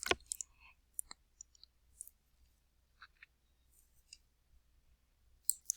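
A computer mouse clicking during word-processing work, a handful of faint, isolated sharp clicks scattered over near-silence.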